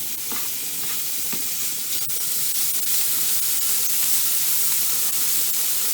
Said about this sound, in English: We're going to go ahead and get the bacon in here.